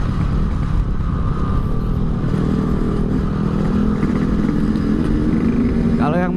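A Yamaha RX-King two-stroke motorcycle fitted with an R15 silencer, its exhaust idling and revving in a loud, steady drone close by, with a voice talking over it.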